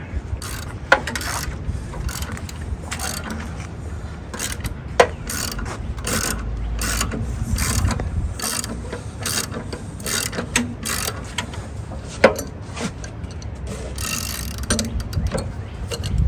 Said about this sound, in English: I'm going to get a ratchet. At minimum, I want a ratchet.